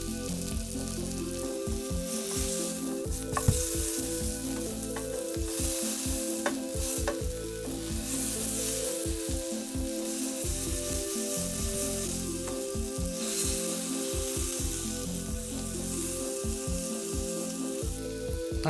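Pork tonkotsu frying in a pan gives a loud, steady sizzle throughout, with frequent scraping and stirring clatter as the meat is turned and moved.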